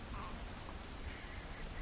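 Steady rain during a thunderstorm, a dense even hiss of drops on a surface with no distinct thunderclap, continuous and moderately loud throughout.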